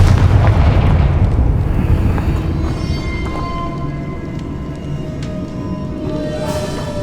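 In Hogwarts Legacy, a Confringo spell bursts in a loud, deep explosive boom at the start, then a long rumbling decay with faint crackling debris trailing off.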